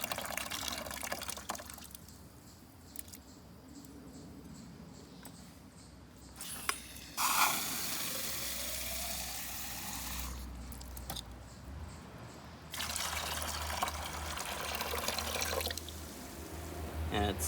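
Water and seed pulp pour off a container of wet seeds during seed cleaning, with bursts of splashing, trickling liquid, quieter stretches between pours and low background rumble.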